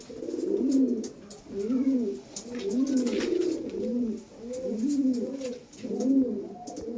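Several closed-tail pigeons coo in repeated soft, rhythmic phrases, close by and fairly steady, with faint background noise.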